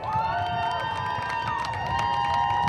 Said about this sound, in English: And the Carter Wortman fans have something to cheer about.